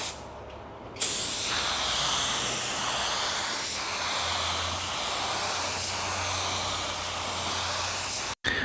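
A budget spray gun applies sealer at 20 psi with its fan pattern wide open, during refinishing of a tri-stage pearl Nissan Altima. It gives a loud, steady, close airy hiss that starts abruptly and runs almost unbroken, then cuts off briefly near the end.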